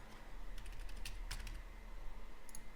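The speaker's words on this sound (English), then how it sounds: "I still had to type in my exit point" A handful of quick keystrokes on a computer keyboard while entering a day-trade exit, soft and close, with clustered taps over a steady background hum.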